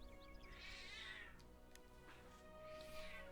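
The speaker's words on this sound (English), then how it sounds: "Thief has a howl, so I'm gonna go pet the Thief kitty" A pet cat howls in drawn-out, rising and falling yowls, a long one followed by another after a pause. It sounds fairly close but quiet overall.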